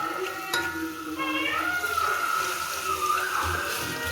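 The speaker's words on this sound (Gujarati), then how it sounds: "અને હવે નાખી દેવું પાણી." Water pours into a cooking pan for Gujarati rasiya rice, a steady running splash heard close up, with faint background noise and a brief clatter early on.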